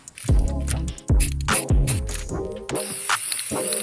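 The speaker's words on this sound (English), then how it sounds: "The spray paint was definitely useful and it went on really quick." Spray paint hisses onto a Warhammer 40k tabletop board in short bursts, then in a steadier, louder spray near the end, with background music playing throughout.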